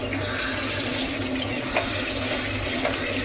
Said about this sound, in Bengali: এখানে আমার চিকেন বসিয়েছি কষানো হচ্ছে